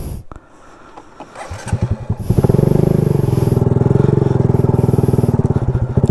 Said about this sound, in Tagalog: Sarap dito magmotor oh